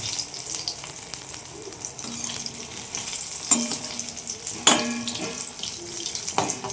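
Topse fish frying in hot oil in a home kitchen, a steady close sizzling hiss with a few sharper crackles and pops, under faint background clatter.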